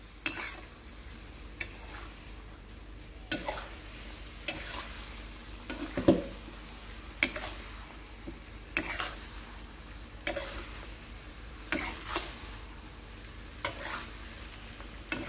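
Ox tongue being fried with pineapple in a pan for a Thai-Malay dish, stirred in a series of scraping strokes over a steady low sizzle, close and moderately loud with no talking.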